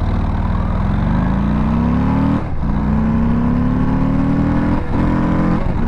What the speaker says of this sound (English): let's do some acceleration on the Lowrider ST